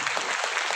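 Brief burst of dense clapping from an audience seated in a hall, loud and steady throughout with no voices.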